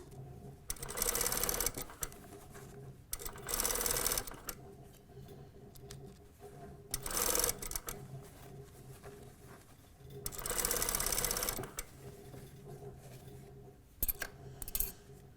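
Sewing machine stitching a folded hem, running in several bursts of rapid even stitching separated by short pauses, with brief back-tacking at the seam join; close and fairly quiet, with no talking.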